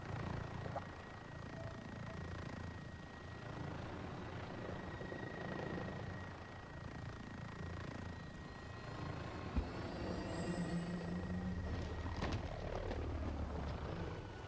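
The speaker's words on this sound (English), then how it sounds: "Cue loud helicopter noise" A cued helicopter sound effect on a gaming stream, a steady low rotor drone with engine whine that holds for the full stretch at moderate level, with a brief thump and some rising tones partway through.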